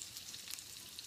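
Food sizzles steadily in a small, scorching frying pan without a non-stick coating, a dense, hissing crackle throughout, fairly faint and with no talking.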